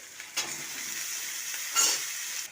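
Vegetables tip into a pan of lightly fried shrimp, setting off a steady sizzle and hiss, with two brief bursts of stirring or scraping that stand out near the start and again toward the end.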